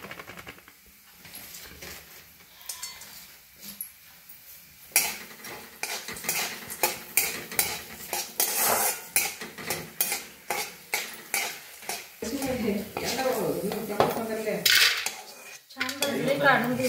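Dried flowers and whole spices roasting in a hot kadhai with a little oil on a gas stove, metal spoon scraping and clinking rhythmically against the pan with a soft sizzle, close and steady.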